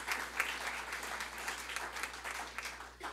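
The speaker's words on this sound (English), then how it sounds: "let's give them a round of applause anyway." Audience applause at a President's Executive Institute event in the Quad Cities: steady, dense clapping from a crowd that holds at an even level for the whole stretch.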